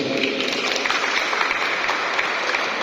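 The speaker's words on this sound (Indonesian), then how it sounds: "Tepuk tangan untuk mereka juga." Audience applause at a campus gathering, dense and steady clapping that fills the whole stretch at close range with no pauses.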